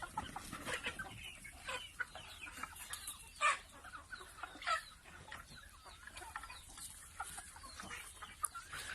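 Farm chickens cluck intermittently in a quiet outdoor setting, several birds giving short clucks and a sharper call or two, faint and scattered across the stretch.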